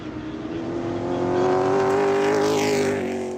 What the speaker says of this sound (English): You can hear the motors wind up.